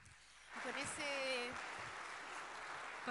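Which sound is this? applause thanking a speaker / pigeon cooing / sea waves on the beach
applause thanking a speaker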